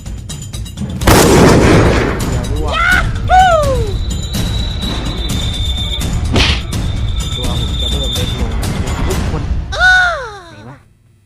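Gunfire in the battle-royale game PUBG, with sharp bursts and booming shots over a continuous backdrop, while someone shouts excitedly over the game audio, fairly loud throughout.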